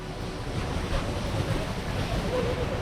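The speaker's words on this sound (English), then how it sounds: "Look at that for a waterfall." A waterfall roars steadily, heard from its base as a constant broad rush of falling water mixed with some wind buffeting on the microphone.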